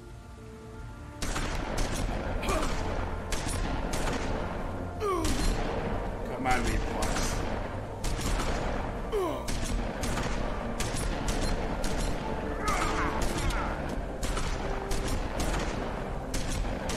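Heavy, sustained gunfire from the video game The Wolf Among Us, dense volleys of shots and booming impacts repeating for many seconds, with someone speaking at times underneath.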